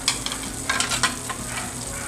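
Olive oil and butter sizzling in a well-heated pan for a chicken casserole, a close, steady frying hiss with light crackles and some stirring, no talking.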